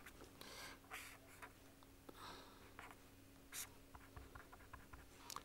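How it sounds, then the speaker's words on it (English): Chalk or pen writing on a board during a mathematics lecture on convergence of operator sequences, heard as faint, quiet scratching strokes in irregular bursts over a low steady hum, with no talking. "Let me write this thing."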